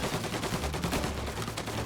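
Rapid gunfire rattles in the video game Mafia Definitive Edition, dense overlapping bursts in a fast continuous rhythm, loud and close with no talk over it.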